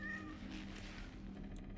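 A cat meows once, short and faint, amid the low hum of the Cronos: The New Dawn game, followed by quiet ambient sound.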